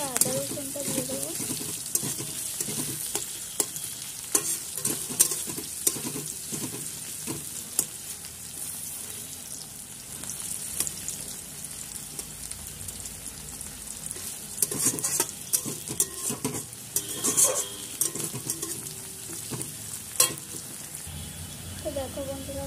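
Onions fry and sizzle steadily in a pan while being stirred, with scraping and clinking of the spoon rising at intervals throughout.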